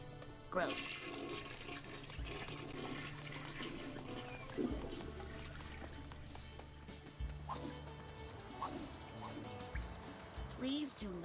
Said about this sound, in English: Please do not flush tarot cards down the toilet just because you don't like your fortune